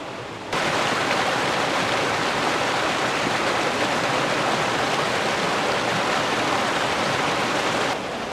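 Steady, loud rushing water from a waterfall along the Jordan River Pathway, a dense even roar that starts abruptly and holds constant for about seven seconds before cutting off, with no voices.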